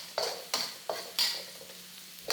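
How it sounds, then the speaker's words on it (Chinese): Spices sizzle gently over low heat in chicken-fat oil in a wok while being stirred, with about six crisp scraping stir strokes at a steady rhythm over a soft frying hiss, close and fairly quiet. "现在我们把香料下锅爆香。 爆这些香料呢，就尽量用慢火去炒香"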